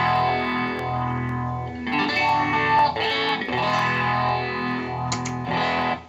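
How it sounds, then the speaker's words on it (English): An electric guitar plays through an Eddie Van Halen Phase 90 phaser pedal, its chords sweeping with a steady swirling whoosh that rises and falls, loud and continuous with no voices. "So real distinct phaser sound there."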